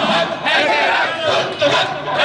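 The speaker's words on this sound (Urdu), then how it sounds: "مظاہرین نے حکومت, وابڈا اور لیسکو کے افسران کے خلاف زبردست نعرے بازی کی" Protesters chant slogans in unison outside the LESCO head office in Lahore, a loud, close crowd of voices rising and falling in rhythmic shouted bursts.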